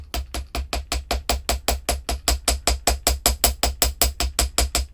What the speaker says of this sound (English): And this is a ball peen hammer.